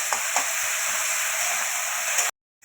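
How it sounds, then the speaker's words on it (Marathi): Urad dal frying in hot oil in a home kitchen, a steady bright sizzle held close and loud for about two seconds with no talk, then it cuts off abruptly into silence. "चांगली उडदाची डाळ याच्यामध्ये तळून निघालेली आहे।"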